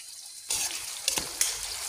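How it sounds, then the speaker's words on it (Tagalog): Garlic and capsicum hitting hot oil in a pan, a sudden burst of sizzling followed by steady frying hiss with a couple of sharp stirring clatters. "Gisahin natin yung una ahos, tapos isunod ang capsicum."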